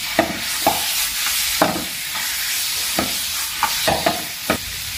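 Small chicken pieces are stirred into a sizzling masala in a pan, with a steady loud frying hiss broken by repeated sharp scrapes and knocks of the spoon, close up and without talking.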